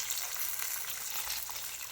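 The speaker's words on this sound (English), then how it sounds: "So I'm going to immerse it into the oil." Egg rolls with Philly cheesesteak filling frying in hot oil, giving a steady, close, even sizzle and bubbling hiss with no speech.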